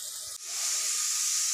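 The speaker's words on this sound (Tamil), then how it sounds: "மஷ்ரூம் கலந்து இது ஒரு 3 நிமிஷம் நல்லா ஃப்ரை பண்ணி வரணும்." Sliced mushrooms frying in a pan with chilli powder, turmeric and salt for mushroom biryani, giving a steady, loud hissing sizzle that dips briefly near the start and then continues evenly, with no talk.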